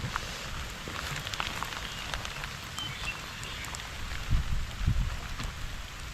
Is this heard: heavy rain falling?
yes